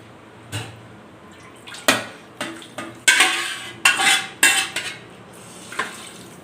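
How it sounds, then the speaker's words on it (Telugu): Clattering of utensils against a cooking pot as a glass of water is poured in, with splashy bursts, several clanks and sloshes in irregular succession, close by. "ఒక గ్లాస్ వాటర్ వేస్తున్నాం"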